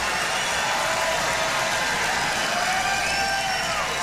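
Political rally crowd applauding and cheering in a dense, continuous roar of clapping and voices, loud and sustained for the whole moment with no pause.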